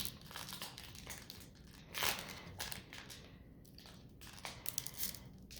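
Foil booster pack wrapper for Azurite Seas trading cards being torn and opened up close, with continuous soft crinkling and a sharper rip partway through, quiet and without talk.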